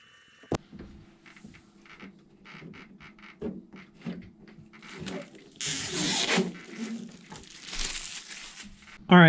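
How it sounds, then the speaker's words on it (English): Tape is pulled and pressed onto the wheel fairings of a Sebart Extra SX RC plane, giving crinkling, tearing bursts between quiet pauses, with a sharp click near the start and a louder rip toward the end. "and then we're going to tape them into place"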